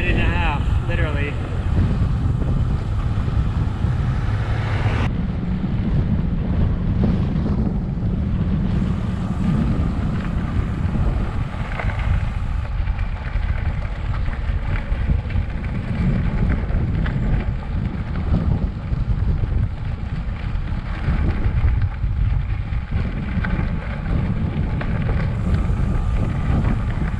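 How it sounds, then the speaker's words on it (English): Steady wind roars across the microphone while bikepacking through Quebec, a dense rushing bed with low rumble that persists for the whole stretch, shifting slightly in strength, with a voice speaking briefly over it. "we'll have to go into the wind for a minute"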